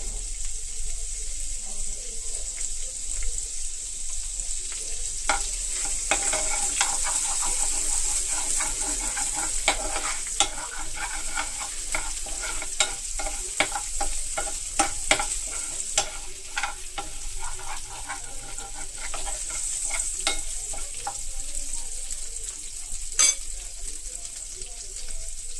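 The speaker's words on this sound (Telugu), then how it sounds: "నేను సన్నగా కట్ చేసిన వెల్లుల్లిపాయలు వేస్తున్నాను" Thinly sliced garlic frying in a pan, a continuous close crackling sizzle with frequent small pops and occasional stirring scrapes, steady throughout.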